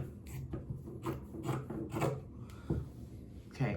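Scissors snip and rasp through a cotton T-shirt being cut into strips for a rug, a series of close, irregular crunching cuts spread over a few seconds with no talk.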